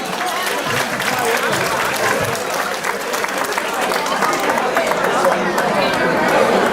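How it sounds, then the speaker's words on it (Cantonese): A large audience claps steadily and loudly at a community mutual-aid society's third-anniversary charity gala, a dense sustained wash of applause with crowd noise mixed in. "我又借助一下各位嘅掌聲，多謝呢下我哋嘅陳月華"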